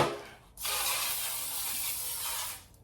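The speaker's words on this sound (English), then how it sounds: "It says to spray it with cooking spray again." A single continuous hiss of aerosol cooking spray for about two seconds, close and fairly loud, then cuts off.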